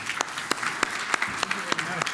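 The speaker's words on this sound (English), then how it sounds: "let's give him a round of applause and welcome to the stage." Scattered, sparse clapping from an audience, individual sharp claps spaced irregularly rather than a full ovation.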